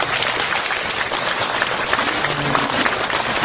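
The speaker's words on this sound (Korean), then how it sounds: "큰 박수 한번 부탁드립니다" An audience at a school support agreement ceremony gives dense, sustained applause, many hands clapping together in a steady, loud wash with no talking.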